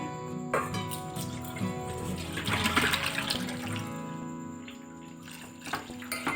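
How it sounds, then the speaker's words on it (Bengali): Hot soaking water is strained off boiled soybean chunks. Water pours and splashes steadily up close, swelling in the middle, then trickling and dripping as it tapers off. "সোয়াবিনটা গরম জলে ভেজানো ছিল, এখন ছেঁকে নেব।"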